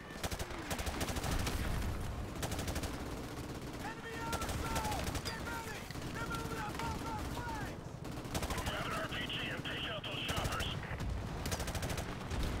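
Gunfire in Modern Warfare Remastered, a first-person shooter: bursts of shots and battlefield noise run steadily through the passage, with a busier flurry near the end, all under ongoing game sound.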